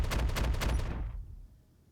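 Y-Wing ballistic cannons firing in Star Citizen, a steady rapid run of punchy shots for about a second that stops abruptly and leaves a fading tail.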